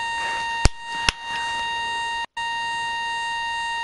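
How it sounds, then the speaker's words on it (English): A steady electronic alarm beeps continuously indoors at a house, a constant multi-tone drone that runs throughout, broken by a couple of sharp clicks near the start and a brief dropout just after the midpoint. "The beeping?"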